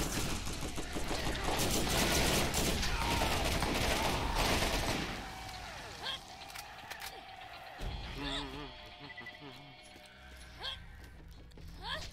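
Rapid turret gunfire and explosions in the video game Borderlands, a loud dense burst of shots for about five seconds, then fading into scattered mechanical clanks and game effects under a speaking voice.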